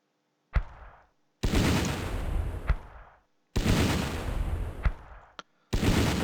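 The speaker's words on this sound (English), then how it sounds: "that's an MG34" MG34 machine gun bursts in the Battle Academy 2 war game, loud sustained rattling volleys of fire separated by brief silences, each capped by a sharp crack, heard alone without talk.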